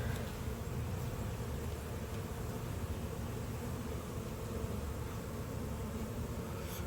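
Honey bees hum in a steady, continuous drone during an open hive inspection, close and even throughout with no voices.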